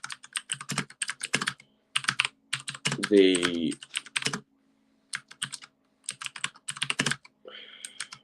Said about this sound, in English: So I'm just typing up now